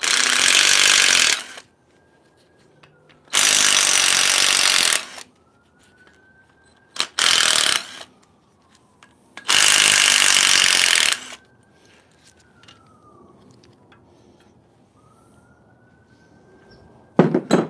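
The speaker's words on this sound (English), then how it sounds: "trying to remove these ones because you have to grind the whole thing" A power grinder cuts into parts of an LS3 engine during a full teardown, four loud harsh bursts of a few seconds each separated by quiet gaps, with faint tonal whines lingering between them.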